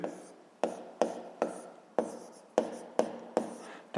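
Pen or pencil writing down an answer to a physics exercise on paper, a close scratching rasp in short strokes with sharp taps at each new stroke, steady and alone with no talk.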